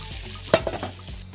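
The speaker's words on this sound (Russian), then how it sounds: "И теперь поджариваем краковскую колбаску." Krakow sausage frying in a pan, a brief close sizzle broken by a sharp clatter and a few quick stirring scrapes, with no one speaking.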